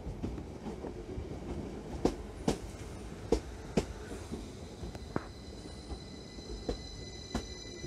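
A train rolls through Ilkley station, wheels clacking over rail joints in a steady run of sharp clicks above a low rumble, with a faint squeal, no voices.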